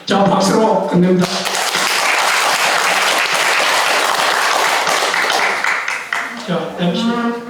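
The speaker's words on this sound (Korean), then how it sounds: "자, 박수로 끝냅니다" An audience at a Korean National Assembly press club seminar applauds loudly to close the event, a dense steady wash of clapping lasting several seconds, with voices talking over it at the start and end.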